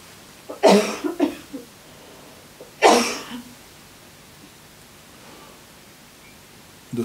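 Two separate bursts of coughing from an audience member at a talk in Munich, the first a short cluster of coughs and the second a single harsh cough, set against a quiet room with no speech.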